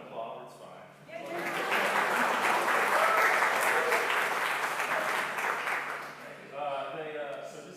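An audience at a live jazz event breaks into sustained applause that swells after a second and fades near the end, with a speaking voice before and after.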